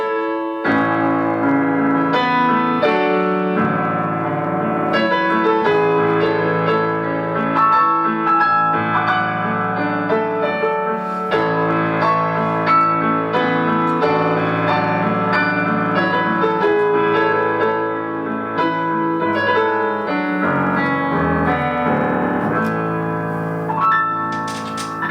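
Digital sampled tone of a Yamaha CFX concert grand played through a TransAcoustic piano, a continuous, full chordal passage with sustained harmonies and steady loudness throughout, with no talking.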